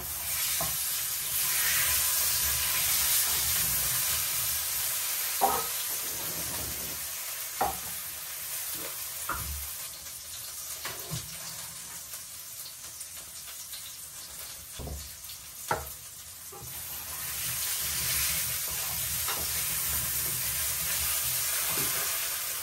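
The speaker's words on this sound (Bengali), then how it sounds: "ডালের সম্বারে দিয়ে দিব শুকনা মরিচ, তেজপাতা, পাঁচফোড়ন।" Dry chilies, bay leaf and panch phoron sizzle steadily in hot oil for a dal tempering, a loud continuous frying hiss with occasional stirring clatters and spoon knocks, no voices.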